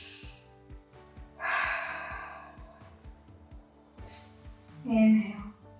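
Deep breaths drawn in and pushed out during a Pilates spinal twist on a reformer at home, audible inhales and exhales over soft rhythmic background music.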